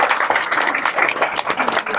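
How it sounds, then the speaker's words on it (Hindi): Audience applause from a crowd at a motivational speech, steady dense clapping filling the whole stretch at moderate loudness with no speech over it. "क्लैप फॉर इट, बढ़िया ताली हो जाओ"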